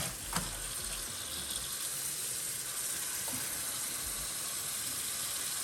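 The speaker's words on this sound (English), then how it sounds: "I'm gonna water it" Steady running water pours and fills an orchid bowl, a continuous broadband rush with faint splashes, close and even throughout.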